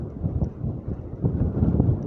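Strong gusty wind buffets the microphone on a very windy afternoon at the round tower overlooking Gosport, a low rumbling roar that swells and eases for a couple of seconds with no voices.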